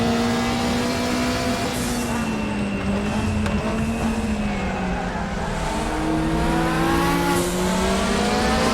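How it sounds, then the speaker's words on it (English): BMW Group 5 race car in Raceroom at Bathurst, its turbocharged engine held at high revs, a loud sustained drone rising and falling through gear changes, close and continuous for the whole stretch with no talk. "You gotta keep the engine RPMs way up in this car, don't you?"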